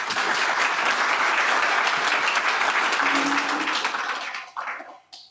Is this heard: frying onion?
no